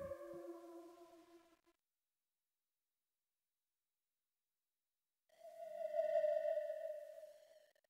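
Two held notes of a dark, dissonant square-wave synth pad made in Ableton Live, each fading in and out, with a long silent gap between them.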